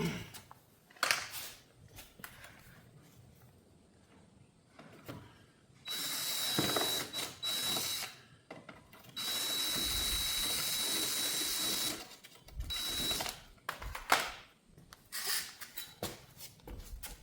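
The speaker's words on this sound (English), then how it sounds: "do these two drill holes" A power drill boring two holes for a Tesla Plaid side skirt install, with loud broadband bursts between about 6 and 12 seconds amid quieter handling and clicking noises, no talk.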